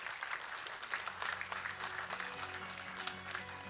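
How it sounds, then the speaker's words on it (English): Moderate audience applause for the President at a capsule laying ceremony, a scattered burst of clapping that fades somewhat toward the end, with no talk over it. "let's give the President a round of applause"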